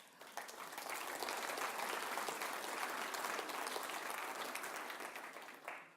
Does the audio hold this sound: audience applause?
yes